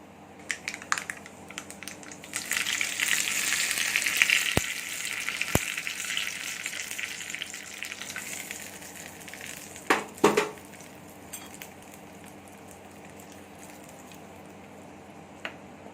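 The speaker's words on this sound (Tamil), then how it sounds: "தாளிதத்தை சட்னியில் சேர்த்து நல்லா மிக்ஸ் பண்ணியாச்சு" Hot tempering of dal and curry leaves is stirred into tomato chutney, giving a bubbling sizzle and squishy mixing that swells and fades, with a couple of sharp clicks and a louder wet stir near the end.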